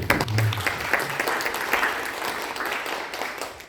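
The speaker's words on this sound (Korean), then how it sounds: "예, 박수 부탁드립니다." Audience applause at a forum on future national land and infrastructure innovation, a steady wash of many hands clapping through the whole stretch, fairly loud and continuous, with a brief low murmur near the start.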